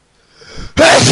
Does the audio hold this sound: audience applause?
no